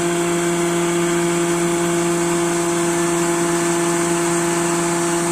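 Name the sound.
hydraulic mule supplying pressure to a Learjet 25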